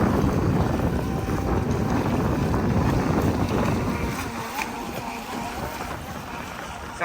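Steady whine of an RC boat's electric motor skimming over choppy water, heard amid heavy wind buffeting, the drone easing slightly toward the end with no voices.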